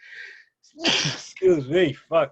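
A single sharp human sneeze bursts out close up, quickly followed by short spoken words from the same person.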